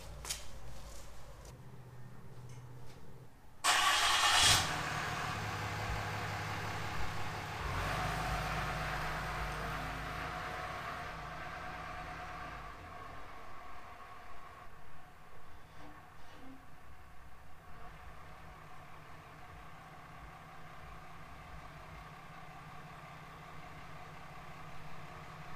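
Pickup truck engine left running during a tire pressure test, a low, steady idle hum that continues throughout, preceded by a brief louder rustle near the start.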